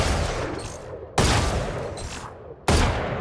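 Gunfire from the Valorant video game: two sharp, loud shots about a second and a half apart, each followed by a decaying crackle and tail. No voices.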